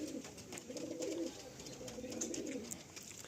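Pigeons kept for sale coo softly in a low, warbling rumble, a male bird among them, with the calls rising and falling over steady room noise at moderate distance.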